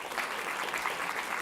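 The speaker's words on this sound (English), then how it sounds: "Round of applause" A steady wash of audience applause at a food and agriculture policy summit as a speaker is introduced, dense clapping heard from a middle distance with no voices over it.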